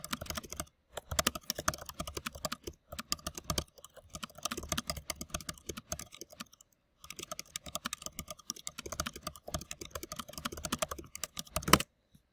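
Rapid bursts of clicking on a computer keyboard, close and fairly quiet, with irregular runs of keystrokes broken by short pauses and a final louder tap.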